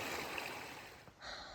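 Water from a stream pours steadily across a trail crossing on the Appalachian Trail, a continuous broadband rush heard fairly close with no voices over it.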